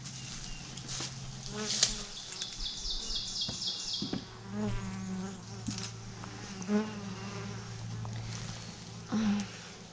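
Dense, steady buzzing of many honeybees close by at an open hive, with louder individual bees droning past and faint rustling movement underneath.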